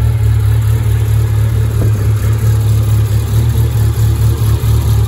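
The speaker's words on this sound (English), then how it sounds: "First starts up, it ramps the idle up a little bit for a second, and then comes down, and it just idles nice." A Suzuki Samurai 1.3L small-bore engine with Holley Sniper fuel injection and a big cam idles steadily and loud up close, its low rumble carrying a slight lumpy lope throughout.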